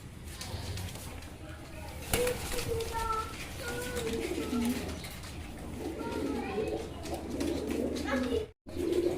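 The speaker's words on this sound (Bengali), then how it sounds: "পাথর চোখের কবুতরগুলো দেখেন" Pigeons coo in a low, repeated rhythm at a pigeon seller's stall where fancy racer birds are kept, close and steady, with someone talking over them.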